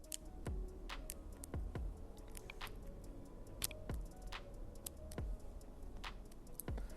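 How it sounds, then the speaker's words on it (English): A Skagen Falster 3 smartwatch with its straps being pulled, giving a series of sharp, brief clicks at irregular intervals, roughly a dozen across the stretch, close up and fairly quiet over a low background hum. "if you pull on the watch straps, as you might when you're putting it on, that's where I first noticed this, there is a clicking sound"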